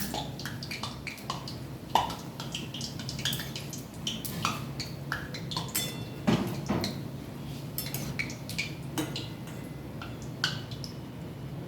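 A steel plate and spoon are washed, giving scattered faint clinks and scrapes of metal against metal with soft water drips. The taps come irregularly and close by, with quiet background noise and no talking.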